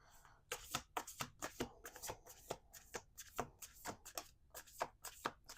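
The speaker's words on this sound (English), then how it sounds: "We're going to do 2 more shuffles." A deck of playing cards being shuffled: repeated crisp riffling bursts and soft slaps, close and clear, in quick irregular rhythm across several shuffles.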